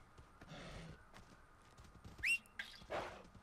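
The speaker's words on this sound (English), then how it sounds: "You didn't hear that whistle?" A short, sharp rising whistle in the Far Cry Primal video game, heard once near the end over dark ambient game sounds, with hoof clops and a horse-like neigh around it.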